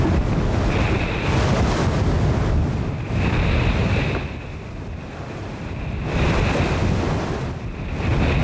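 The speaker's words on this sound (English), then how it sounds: "The wind always ahead of us freshens again after a brief lull." Strong wind rushes over open sea aboard a yacht in the 1998 Around Britain sailing race, a loud roaring buffet against the microphone with surf washing beneath, easing briefly before freshening again.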